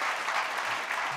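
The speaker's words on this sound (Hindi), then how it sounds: "जोरदार तालियों से स्वागत कीजिए" An audience gives a dense, steady burst of applause to welcome a district police deputy superintendent onto the stage at an honours ceremony.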